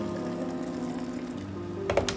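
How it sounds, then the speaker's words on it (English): Hot water pours into a detox drink with a soft, steady trickle and a brief splashy burst near the end, fairly quiet with no voices. "So now we go ahead and we add the hot water."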